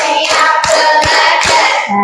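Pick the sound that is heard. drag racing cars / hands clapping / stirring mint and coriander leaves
hands clapping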